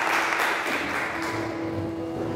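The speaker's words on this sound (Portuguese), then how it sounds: "Aplauda o nome do Senhor." A church congregation claps together during a worship service, producing a steady, dense wash of applause that fills the room, with a faint sustained tone underneath.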